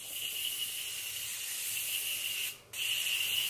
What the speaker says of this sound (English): I love this spray, and I love the size it comes in, the jumbo.